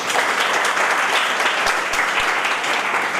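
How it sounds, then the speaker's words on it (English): A large crowd at an educational discussion in Delhi claps steadily and loudly, a dense, even wash of applause with no voices standing out. "Please give them a huge round of applause."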